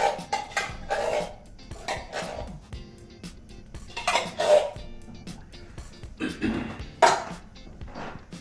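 Cattle Drive Gold gluten-free canned chili being handled in a pan, with scattered clinks and scrapes of metal utensils and cookware in a few separate bursts, moderately close with some background room noise.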